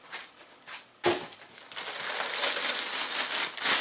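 Plastic packaging around an HP EliteBook laptop is pulled and crinkled in several close, sharp bursts, building into a sustained rustle toward the end.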